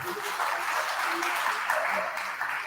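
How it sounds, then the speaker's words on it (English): An audience at a Caritas Week gathering gives a round of applause, steady clapping at moderate volume with faint voices murmuring underneath. "A round of applause for them."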